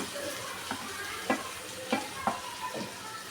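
Tomatoes sizzle steadily in a hot pan for a prawn, drumstick and egg curry, with several distinct scraping stirs of a spoon cutting through the close frying hiss.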